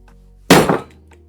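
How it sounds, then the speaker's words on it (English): A hard smack hits a Watts permanent outdoor light encased in epoxy, making a loud close thwack with a brief clattering tail and a smaller second knock. No one speaks. "I'm just trying to figure out how hard I can smack it."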